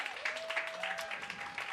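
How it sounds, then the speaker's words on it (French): A crowd claps in a brief, dense burst of applause, moderately loud, with a voice briefly audible in the mix. "Applaudissez-vous les gens du Bootlegger."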